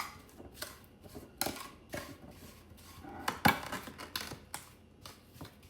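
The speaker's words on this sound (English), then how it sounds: "Now give all this stuff a nice little stir in here." Peach cobbler filling with a pinch of salt stirred in a bowl, making irregular clinks and scrapes of a utensil against the bowl, close and fairly quiet.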